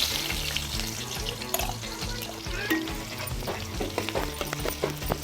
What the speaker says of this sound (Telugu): ఉల్లిపాయ ముక్కలు మంచిగా ఫ్రై చేసుకోవాలి